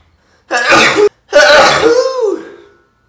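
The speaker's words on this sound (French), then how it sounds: "Je vais éternuer." A loud, close sneeze in two explosive bursts, the second trailing off into a drawn-out voiced tail.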